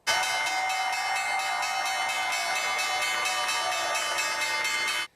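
A bell rings at the New York Stock Exchange as one sustained metallic clang that holds steady for about five seconds with bright ringing overtones, loud and alone, then stops abruptly.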